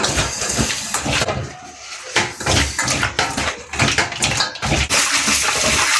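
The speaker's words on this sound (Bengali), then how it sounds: "দেখেন মাছটা ধুয়ে নিতেছে।" Fresh kaila fish rinsed by hand in a basin of water, with steady splashing and sloshing, bursts of handling and clattering throughout, close and fairly loud with no talk.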